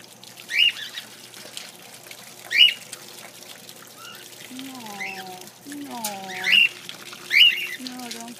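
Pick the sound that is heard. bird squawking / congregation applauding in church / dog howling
bird squawking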